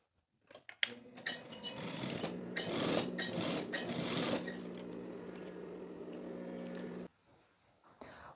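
A sewing machine topstitches over the lapel of a teddy jacket, running steadily for about six seconds close up, then stopping abruptly, leaving quiet handling sounds.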